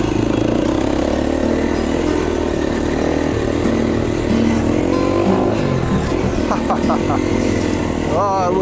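A 2011 KTM 350 XC-F dirt bike riding a trail in Utah, its engine buzzing steadily and loudly throughout with rattles and wind rush, a rider's voice coming through faintly at times.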